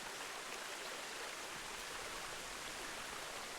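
Rushing river water in the zoo-building game Planet Zoo, a steady, broad wash of flowing stream noise that runs unchanged throughout with no other sounds.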